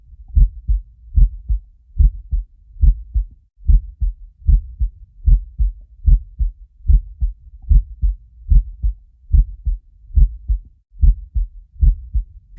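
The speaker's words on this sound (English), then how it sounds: "in the background is nothing but a faint heartbeat" A steady heartbeat pulses in the background of the video game Eversion, each beat a low, muffled double thump repeating at a regular rhythm, heard alone with nothing else around it.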